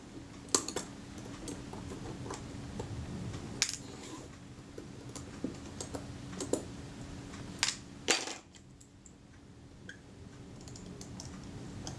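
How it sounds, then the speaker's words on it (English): Large screws are lifted out from the prism of a Reflex III camera, heard as faint, scattered small metallic clicks and ticks close by, with a few slightly louder taps and no talking. "I lift out the large screws."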